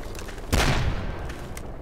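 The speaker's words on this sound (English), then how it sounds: "I think I just hear the mortar firing." A single deep boom from a mortar firing in Project Reality lands mid-distance over steady ambient battlefield noise, followed by a fading rumble and a couple of faint distant pops.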